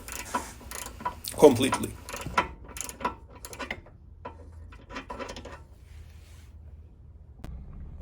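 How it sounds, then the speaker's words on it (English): A regular ratchet tightening a bolt during installation of an upper control arm with Strongflex bushings on a Mercedes W210, giving soft clicking and knocking mechanical sounds under a speaking voice in a workshop. "Now I am tightening it with the regular ratchet"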